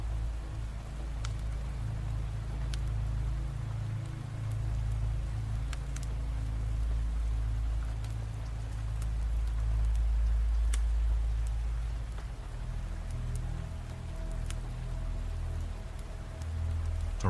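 Steady rain falling at night, a dense, even hiss with faint scattered drops and a low rumble underneath, continuous and unbroken with no voices.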